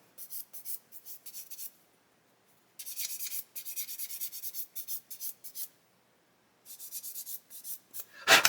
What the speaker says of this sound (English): I'm just going to grab a sanding stick and just take away